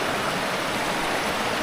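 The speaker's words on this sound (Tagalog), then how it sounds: "Lakas ng tubig, eh. Lakas ng tubig." A strong river current rushes in a dense, constant broadband roar, close and steady with no voices.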